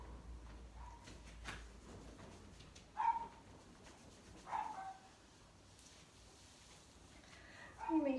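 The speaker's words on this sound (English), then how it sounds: "You may hear dogs barking or other noises in your background." A few faint barks from dogs somewhere in the background, spaced several seconds apart and heard at a distance over a quiet room.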